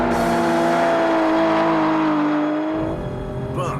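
An Aston Martin DBS engine revs hard with a sustained, rising tonal roar that holds strongly, then drops off abruptly near the end, loud and close.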